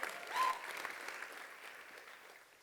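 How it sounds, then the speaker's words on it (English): Applause from an audience at a startup pitch competition greets a presenter, a soft, fairly distant patter of clapping with a faint cheer at the start, gradually thinning and fading out. "Give him a round of applause."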